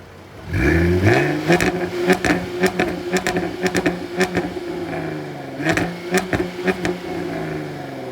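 A Jaguar F-Type supercharged V6 engine revs repeatedly, rising and falling in sharp bursts, loud and close, with a whining mechanical note beneath the throttle blips.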